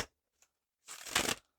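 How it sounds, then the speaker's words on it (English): A brief burst of riffling tarot card shuffling, loud and close, preceded by a tiny tap, with silence around it. "I'm going to shuffle these real quick."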